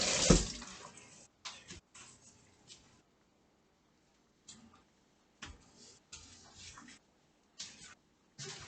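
Water runs and splashes in short, separate bursts as food or kitchenware is rinsed and washed at a sink, with quiet gaps between the near spurts.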